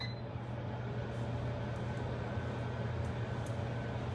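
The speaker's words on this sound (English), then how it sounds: "you might hear my fan" An electric fan running in a home kitchen, a steady low hum with a constant airy whir, unchanging throughout.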